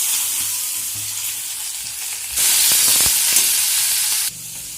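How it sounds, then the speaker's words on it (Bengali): Vegetables frying in a pan with whole spices, a steady close sizzle that jumps louder midway as more hits the hot oil, then settles back down, no talk. "তাই সবজিগুলো একটু ভাজার জন্য দেবো।"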